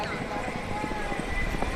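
Horse galloping during a neza bazi tent pegging contest at a rural Punjab festival, a rapid thudding clip-clop of hooves under continuous loud crowd noise and an announcer's voice.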